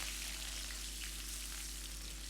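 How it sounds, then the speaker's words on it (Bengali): Carrots frying in oil for a vegetable khichuri, a steady soft sizzle with fine crackle held at an even low level throughout, no voices. "এবার আমি গাজরগুলো খুব ভালো করে ভেজে নেব।"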